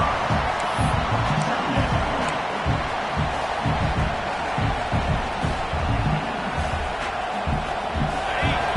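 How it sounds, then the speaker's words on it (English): A football stadium crowd keeps up a loud, steady roar of cheering and hollering throughout the game, a dense wash of massed voices with no single voice standing out. "This crowd going to try to make life miserable for these guys"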